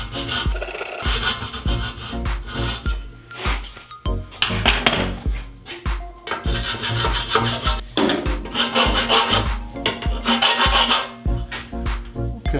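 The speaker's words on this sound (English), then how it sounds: "Finish the corner with the hacksaw again." A hacksaw cuts the corner of a hand-built metal blower belt guard, giving repeated close, harsh rasping strokes in a steady back-and-forth rhythm with brief pauses between passes.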